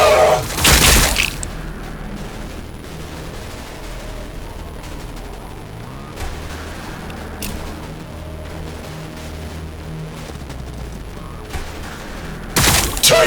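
Battlefield gunfire in Warhammer 40,000 Battlesector, loud bursts of firing at the start and end, with scattered shots and rumbling mechanical noise between under game music.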